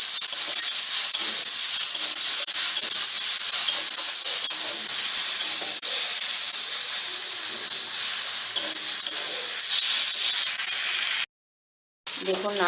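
Sour okra fries with salt in a pan, giving a steady, bright sizzle with occasional stirring scrapes, close and loud, until a brief silent gap near the end.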